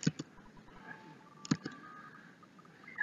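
Telephone dialing in the Earthbound video game, two separate bursts of crisp clicking dial tones about a second and a half apart over a quiet background.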